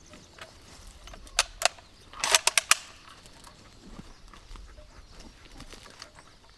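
A Bren light machine gun fired on an outdoor range during a 1942 qualification course, a few sharp single reports followed by a quick cluster of shots, moderately distant over a quiet outdoor background.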